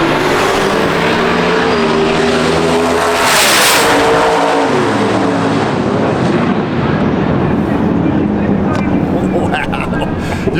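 A 2011 Ford Mustang drag car roars down the strip at a TX2K event, a loud sustained engine howl rising in pitch, then fading into broad rumble and crowd noise.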